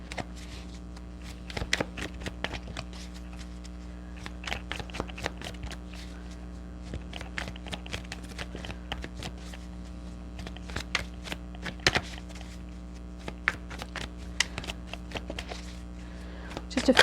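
A deck of tarot-style cards is shuffled by hand, a continuous run of close, crisp riffling flicks and soft slaps over a low steady hum, with no voices.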